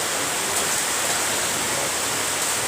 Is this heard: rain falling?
yes